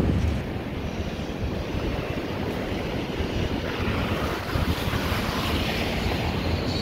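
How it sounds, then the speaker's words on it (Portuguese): Ocean waves breaking at Balneário Camboriú beach, a continuous broad roar of surf with wind buffeting the microphone, steady and fairly close, with no voices. "não é todo dia que tem essas ondas quebrando aqui em Balneário Camboriú"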